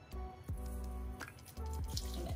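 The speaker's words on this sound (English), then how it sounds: "Now we're gonna take a ladle of pasta water" A ladle of pasta water pours into a pan of butternut squash carbonara, giving a brief, faint splash and bubbling with sizzle-like flickers, close by.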